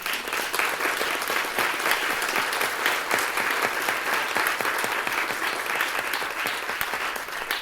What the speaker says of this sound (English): maybe we could just give them one more round of applause for everything